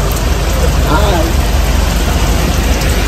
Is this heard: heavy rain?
yes